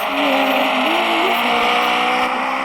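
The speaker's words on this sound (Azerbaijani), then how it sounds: "Birazdan bakın maşın gelir." Steady engine drone of a VAZ 2107 car driving in Moscow, close and even, its pitch wavering slightly with no talking.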